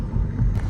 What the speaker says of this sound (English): Here is what it kind of sounds like during just like city driving